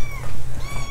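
Several kittens at an animal shelter meow in overlapping, high-pitched calls close to the microphone, with a steady low hum underneath and no talking.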